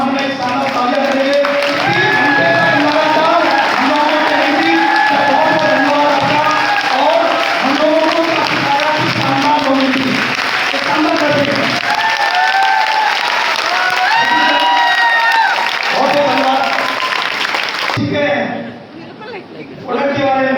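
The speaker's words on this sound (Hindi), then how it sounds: "गौरव सर के सम्मान में एक शानदार तालियां करेंगे।" Sustained crowd applause from a standing audience at an AWPL business meeting in honour of a guest, loud and continuous with murmured chatter mixed in, fading abruptly near the end.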